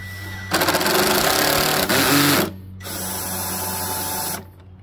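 A power driver whirs as it drives self-tapping sheet metal screws into the handlebar of a Toro Personal Pace mower, running in two loud bursts separated by a short pause.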